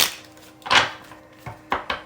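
Ancient Italian tarot cards shuffled by hand, a few quick riffling bursts and soft slaps close by, separated by short pauses, with no talk.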